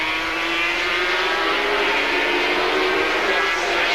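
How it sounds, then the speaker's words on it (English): Yamaha TZ250 and Honda racing motorcycles in a 250/350cc GP race at Lakeside Raceway, 1987, a loud sustained high-pitched two-stroke engine whine holding steady as the bikes race past, with no talking. "Beattie's on the ex-Mike Dowson Yamaha TZ250, a J Series bike"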